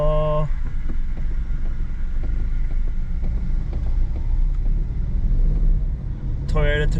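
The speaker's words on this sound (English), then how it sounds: "Toyota Tacoma is not made for mountain road." A Toyota Tacoma drives a mountain road with a steady low engine and road rumble, wind buffeting throughout, and a voice speaking briefly at the start and end.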